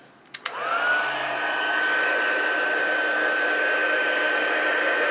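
Heat embossing tool blowing over card stock pieces: a couple of clicks as it switches on, then a steady loud whirring hot-air blast that holds without pause, close up and with no speech.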